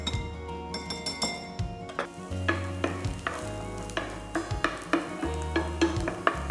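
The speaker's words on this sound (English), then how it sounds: "We'll just fry them until they're translucent." Onions softening in a frying pan crackle gently while a utensil repeatedly clinks and scrapes against the pan in an uneven rhythm, close and fairly clear.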